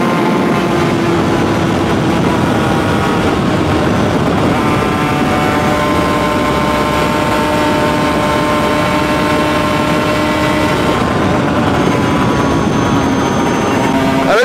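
A two-stroke motorcycle engine runs loud and close while gears are shifted without the clutch, giving a steady, buzzing drone with strong tonal harmonics that holds without pause and without talk.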